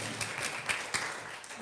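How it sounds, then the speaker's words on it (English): Applause from an audience at a spiritual gathering, soft and a little distant, with a few louder claps standing out in a brief burst. "Let's give her one more round of applause."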